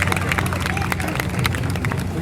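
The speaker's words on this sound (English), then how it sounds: "Everybody give her a nice big round of applause" Audience at an alligator show clapping together, a dense, steady patter of applause with crowd noise throughout, fairly close and loud.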